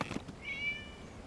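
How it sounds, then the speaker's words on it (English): A cat meows once in the video game True Tales of the Violet Garden, a single short, thin, rising-and-falling mew in a quiet scene with no talk. "It was just a cat."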